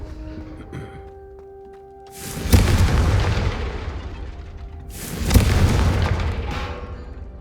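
Two heavy booming blasts of the Confringo fire spell in Hogwarts Legacy, each hitting hard and then rolling off in a long rumbling tail, spaced a few seconds apart with no voices over them.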